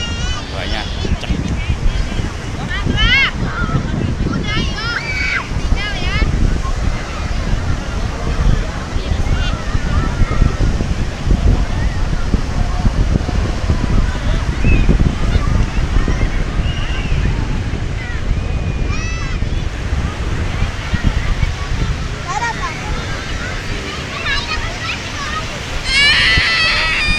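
Strong ocean waves at Menganti Beach in Kebumen surge and crash with a constant loud roar, mixed with wind buffeting, while voices talk over the surf.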